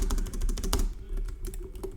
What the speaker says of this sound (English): I'm spamming the spacebar right now